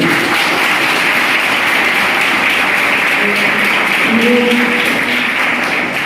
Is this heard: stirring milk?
no